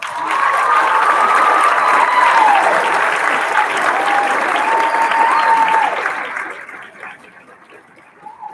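A graduation audience applauds students receiving an award at an 8th grade ceremony, dense and loud, with some whistles and cheers, sustained for about six seconds before fading away.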